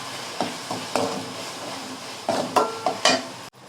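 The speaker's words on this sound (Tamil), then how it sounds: "மஞ்சத்தூள் போட்டு கிண்டி விட்டுக்கலாம்." Sautéed onion, tomato and garlic with turmeric powder are stirred in a pan for vatha kuzhambu, heard as several close scraping and tapping strokes of a spoon over a low sizzle, with no talking.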